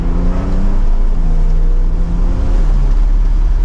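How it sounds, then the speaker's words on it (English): A Porsche 911 Targa 4S pulling hard with the roof down, its engine note rising steadily through the rev range in a loud, continuous drone mixed with wind rush. "we'll give another acceleration with the roof down"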